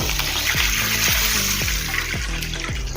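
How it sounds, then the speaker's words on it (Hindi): Water from a glass poured into a hot pan of fried cumin, a loud pouring and bubbling wash with repeated falling gurgles, close up and without talk. "इसमें हम पानी डालेंगे"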